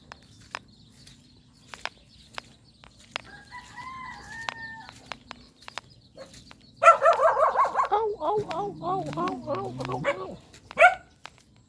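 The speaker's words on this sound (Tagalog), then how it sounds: "at may aso pa naman" A dog barks in short rapid bursts nearby, mixed with rooster crowing and clucking, over faint rhythmic clicks in a quiet rural setting.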